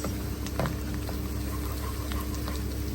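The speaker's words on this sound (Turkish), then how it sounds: "Burada suyum kaynıyor" Steady bubbling and popping of water at a rolling boil in a pot, a continuous close hiss with scattered small pops.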